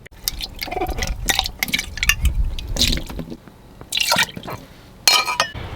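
Dishwater pours and splashes from one dish into the next in several separate bursts, with drips and the clink of dishes between them, close and fairly loud, in an off-grid tiny house.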